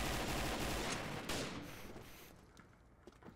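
A burst of rapid gunfire in the video game Combat Arms, starting dense and loud, then fading to a few scattered faint shots.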